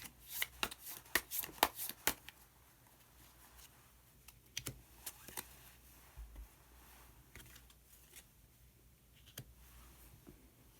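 A tarot deck is shuffled in a quick burst of riffling, papery slaps, then single cards are drawn with sparse soft taps and clicks, close and fairly quiet with no talking.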